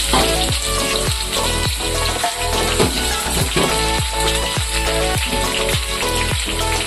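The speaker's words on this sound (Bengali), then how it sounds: "ভালো করে নাড়াচাড়া করে ভেজে নেব।" Steady crackling sizzle of potatoes and eggplant frying in hot oil, loud and close, with periodic scraping thumps from stirring.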